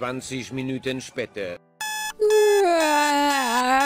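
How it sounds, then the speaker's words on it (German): An alarm clock in the Roblox game Brookhaven gives one short electronic ring. Before it, a voice speaks, and afterward a sustained, drawn-out voice follows. "Das war der Wecker?"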